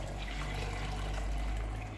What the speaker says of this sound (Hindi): पानी मैंने इसमें डाल दिया।